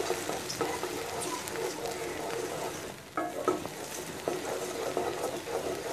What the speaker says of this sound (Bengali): এখন একটু নেড়ে নেড়ে আমি রুটিগুলোকে একটু ভেজে নিচ্ছি